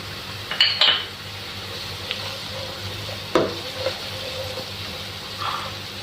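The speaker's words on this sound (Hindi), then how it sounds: "साथ हम 2 कटी हुई हरी मिर्चें वो डालेंगे।" Two chopped green chillies and onion hit a hot pan for bhindi masala, giving a low steady sizzle with a few sharp clinks and stirring scrapes scattered through, close and moderately loud.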